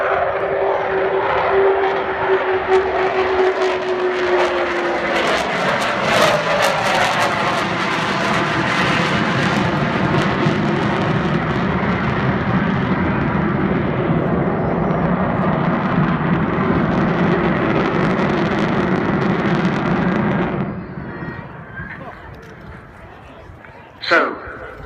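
Avro Vulcan XH558 bomber making its final pass at the Southport airshow, a loud, sustained roaring jet engine sound that rises and sweeps past, then fades, under crowd noise and talk.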